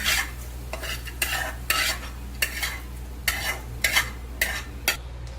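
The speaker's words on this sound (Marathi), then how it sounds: "थोडेसेच भाजून घ्यायचे. बघा अशा प्रकारे भाजून घ्यायचे." Ingredients dry-roasting in a shallow pan with a little oil, a utensil scraping and stirring in repeated strokes about every half second over a low steady hum, close and moderately loud.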